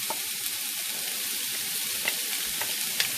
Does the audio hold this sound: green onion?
yes